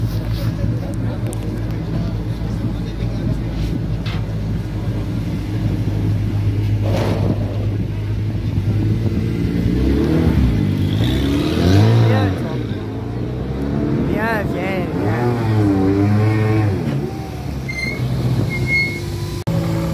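An Alpine rally car on a stage of the Rallye des Ardennes 2023, a Belgian Rally Championship round, approaches with a rising engine note, revs through gear changes and sweeps past before fading, under crowd chatter and commentary.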